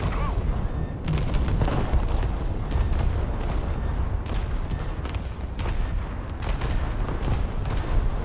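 A burning warship's ammunition rack detonates in a naval combat video game, heard as a dense, continuous series of loud booming cracks and rumbles.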